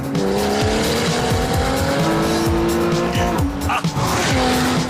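Singer-restored Porsche 911 with an upgraded 3.8-litre flat six, engine droning loud and steady with rising and falling gear pulls and a hint of tyre squeal, no talk over it.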